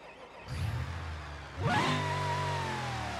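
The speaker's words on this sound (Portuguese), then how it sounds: "Vamos ligar o motor." A tuned Chevrolet Silverado in BeamNG.Drive cranks with a starter whir, then its big engine catches and settles into a loud, steady rumbling idle, close and alone.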